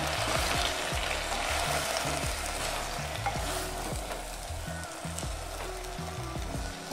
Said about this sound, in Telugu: నూనె బాగా కాగిన తర్వాత ఇందులోకి శుభ్రంగా కడుక్కున్న గోంగూరను వేసుకోవాలి।